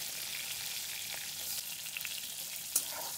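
Vadas frying lightly in oil, a steady soft hiss of bubbling oil with a few faint clinks, close and quiet, without speech.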